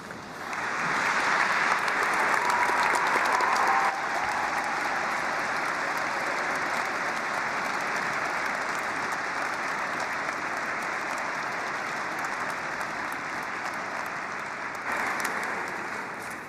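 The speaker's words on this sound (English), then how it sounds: "And the applause in this magnificent Minster represents all of our support for them." Sustained applause from a large audience at a university graduation ceremony in York Minster, a broad even roar of clapping filling the cathedral, holding steady for most of the stretch and swelling briefly near the end.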